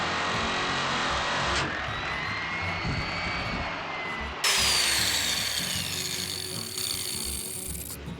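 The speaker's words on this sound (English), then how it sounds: "cut sections for that nibbler to get into, and then nibble away" A nibbler whines and grinds steadily through sheet metal, harsh and loud up close, with the pitch shifting partway through, cutting sections on a 1969 Mustang for a shaker scoop install.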